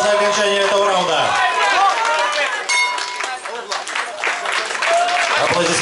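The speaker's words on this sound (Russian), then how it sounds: "Аплодисменты." A crowd at a kickboxing bout cheers and applauds during a round, a loud continuous mix of clapping, shouts and babble with voices rising over it throughout.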